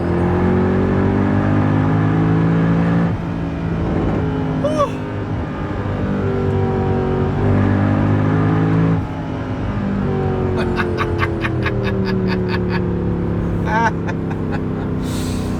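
A Mercedes C63 engine drones loud and close from the driving seat, its pitch rising and falling as it revs through the gears, with a voice speaking over it at times.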